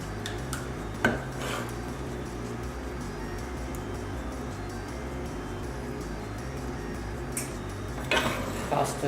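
Pasta e fagioli is spooned into a bowl, with occasional utensil clinks against dishes over a steady low background hum.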